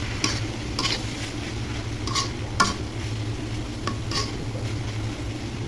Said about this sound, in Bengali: ডিম দিয়ে ভালো করে নেড়ে ছেড়ে ভেজে নিব।